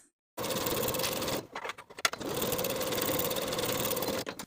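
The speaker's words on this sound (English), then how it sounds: "Sew with a 3/8 inch seam allowance." A sewing machine stitches a seam in knit fabric for a jumpsuit, running steadily in two loud bursts separated by a short pause, close up with no talk.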